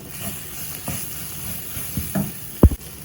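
Soy meat and onions sizzle in a hot pan while a spoon scrapes and stirs, ending with a couple of sharp clanks.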